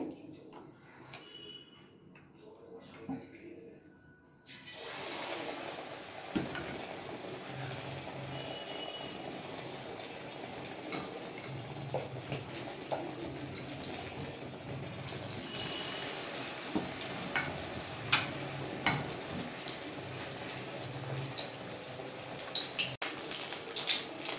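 Steady sizzling and crackling of battered bhetki fish frying in oil after a quiet start, with scattered pops and clinks throughout, fairly close.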